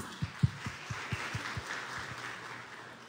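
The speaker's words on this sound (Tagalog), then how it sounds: "mas malakas na palakpak kay Jesus" A church congregation gives a short burst of faint, scattered applause. About a dozen soft, separate claps come first, then thin out into a quiet murmur.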